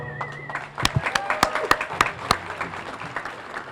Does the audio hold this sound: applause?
yes